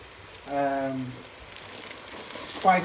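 Garlic and about ten green chilies sizzle steadily in a pan for a Bangladeshi fish curry, a soft, even hiss of frying throughout, with a brief voice-like tone partway through.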